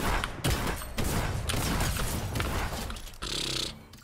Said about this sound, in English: Who's shooting at me this time?